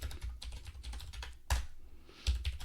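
Keys clatter on a computer keyboard as a terminal command is typed, a rapid patter of close, crisp clicks with a couple of heavier key strikes.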